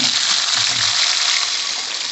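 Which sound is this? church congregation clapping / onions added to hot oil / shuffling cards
onions added to hot oil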